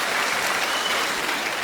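An indoor audience claps steadily throughout, a dense, even wash of applause with no pauses or voices standing out.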